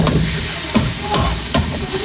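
Squid fries in a hot pan for a black-ink stir-fry, a dense continuous sizzle with several brief scraping strokes as a utensil stirs it, close and loud, with no talking.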